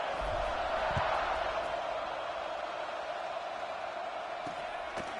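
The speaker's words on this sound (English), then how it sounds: "this crowd is buzzing after that last score" A football stadium crowd keeps up a loud, steady roar after a score, a dense wash of noise from distant voices with no single cheer standing out.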